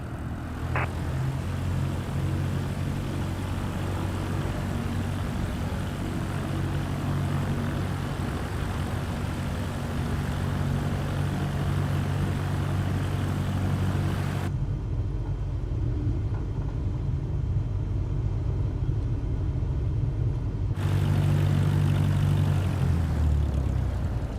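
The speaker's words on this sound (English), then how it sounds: "Now slowly taxi onto the runway and align the plane with the center line." A propeller plane taxis slowly onto a runway, its engine a steady, close droning rumble that holds throughout with little change. The tone briefly thins partway through, then returns with a slightly louder, lower throb at the end.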